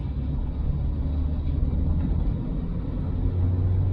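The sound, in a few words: car driving on the road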